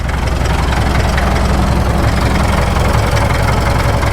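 A Caterpillar D2 crawler tractor, serial 5U7968, idles just after its first start, a steady, loud, low diesel rumble with even knocking pulses that carries on without a break.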